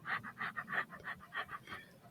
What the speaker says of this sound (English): we just want to hear him breathing.